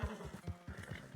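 A horse snorts and whinnies over rhythmic hoof clops, close up and fairly quiet, sounding like a game effect.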